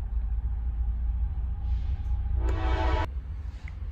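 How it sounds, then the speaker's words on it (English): A passing train rumbles low and steady, and a broad horn-like tone swells briefly before cutting off near the end. "Darn train went by."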